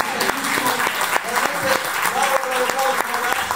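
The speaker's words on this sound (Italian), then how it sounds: "un applauso a lui" An audience at a charity singing event applauds loudly and continuously, dense clapping with some sharper individual claps, while a voice speaks over it.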